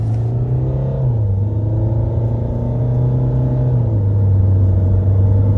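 A deep, steady engine drone builds and shifts pitch as a stage 2 tuned, modified Mahindra XUV500 SUV accelerates, loud and close, with the low rumble stepping between gears.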